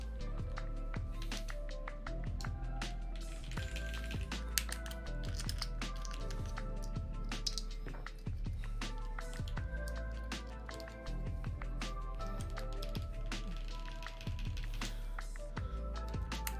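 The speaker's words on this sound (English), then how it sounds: "I can tell that it's not really a loud keyboard" Steady typing on a mechanical keyboard with GMK Peaches and Cream keycaps, rapid, even key clicks and thocks close to the mic over a low background hum, no talking.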